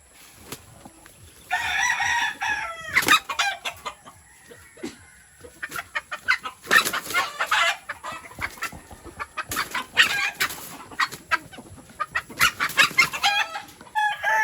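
Brood hens and a rooster penned for breeding cluck in bursts and crow several times, fairly close and loud, with intermittent quiet gaps between calls.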